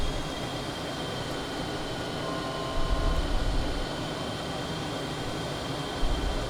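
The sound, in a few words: Beast Horus microjet flying, Microsoft Flight Simulator video game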